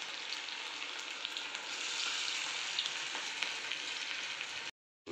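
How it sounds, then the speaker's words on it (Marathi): Corn bhaji (makyachi bhaji) deep-frying in hot oil, a steady close bubbling sizzle that holds level throughout and cuts out abruptly near the end. "डीप फ्राय करून घ्यायचं आहे, म्हणजे ती खूप छान होतं"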